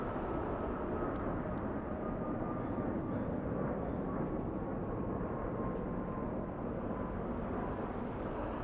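A United Boeing 737 airliner produces a broad, steady jet roar, heard at moderate level as a continuous wash of engine noise without talk.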